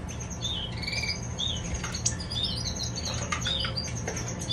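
Several canaries squawk and chirp in shrill, overlapping calls against a constant low hum, the calls coming in short repeated bursts.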